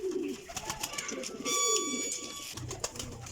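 Pigeons in a loft of flying pigeons in Jhelum, cooing softly in low, rolling calls alongside faint chirps and shuffling, at close range with no talking.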